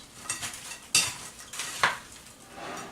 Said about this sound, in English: I'm just going to give this another stir with the bread in here